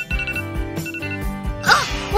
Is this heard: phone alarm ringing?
yes